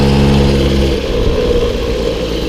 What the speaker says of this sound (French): on sent bien le moteur qui force.